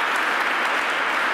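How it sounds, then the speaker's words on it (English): A crowd at a Buffalo public event with Governor Hochul claps steadily in a short, even burst of applause, fairly loud and continuous. "Let's have another round of applause for Sydney Brown and Rock."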